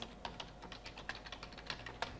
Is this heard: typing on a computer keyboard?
yes